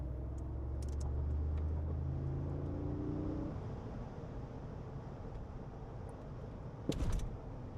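A Mercedes G-Wagon drives over a pothole, giving a steady loud engine and road rumble that softens slightly midway, with a brief sharp thump near the end as the wheel hits the hole.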